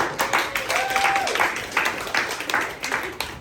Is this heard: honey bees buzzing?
no